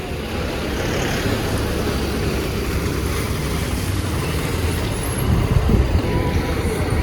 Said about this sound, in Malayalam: ഈ ബസ്സാണ് നമ്മുടെ ഇരിട്ടി പോകുന്നത്